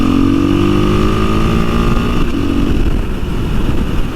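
A KTM 500 EXC-F dirt bike pulls away from a stoplight, its loud, close engine rising in a steady drone before the note shifts and settles into a rougher, continuous rumble, with no talking.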